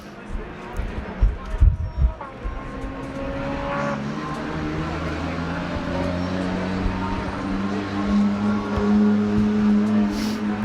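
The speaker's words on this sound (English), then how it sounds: "in the background in the paddock are driving by. Some loud cars." Loud drift cars drive through the paddock at Circuit Ricardo Tormo during the 2024 FIA Motorsport Games, their engines droning and swelling in the background beneath a commentator's talk.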